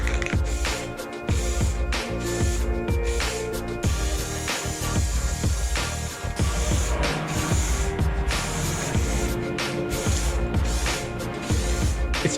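An aerosol can sprays a light, even coat onto a Toyota GR86 part in repeated short bursts, each a close, loud hiss separated by brief pauses, over a steady background hum.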